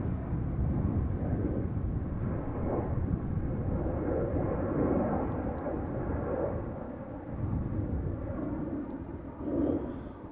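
An airliner taxis toward the runway at Amsterdam Schiphol Airport, its engines giving a steady low rumbling roar. Wind buffets the microphone outdoors, and the roar swells slightly near the end.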